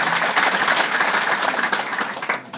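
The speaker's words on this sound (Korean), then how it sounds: "한 큰 박수 한번 부탁드립니다" A crowd at a business office opening in Gwangju gives a big round of applause. The clapping is dense, loud and close, continuing steadily before trailing off at the end.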